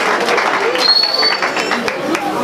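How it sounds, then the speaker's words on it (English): An audience claps for a student at a school event, a loose, moderately loud run of clapping with voices and crowd noise mixed in. "Clap for her now."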